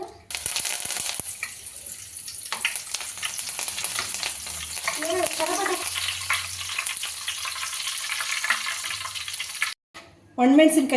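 Curry leaves drop into hot oil for avalakki oggarane, a loud, steady crackling sizzle that runs throughout, with a sharp burst of spitting near the end and a voice speaking over it.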